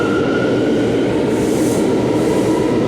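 A New York City subway train rumbles loudly through Harlem at 135th Street, a steady dense roar of wheels on rails with a faint high squeal, close and continuous, with no talking.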